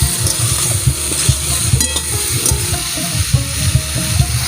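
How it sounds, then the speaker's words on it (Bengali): Fried shol (snakehead) fish being sautéed and stirred in a hot pan with spices for Bengali aam shol, giving a loud, steady sizzle with scraping stir strokes throughout. "মা আবারও ভালোভাবে কষিয়ে নিচ্ছে।"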